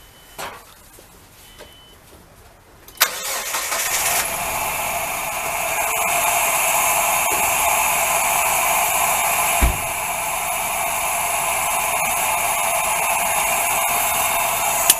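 A Nissan engine with a misfire cranks and starts about three seconds in, then settles into a steady, loud running roar with a brief knock near the ten-second mark; quiet handling noises come before the start.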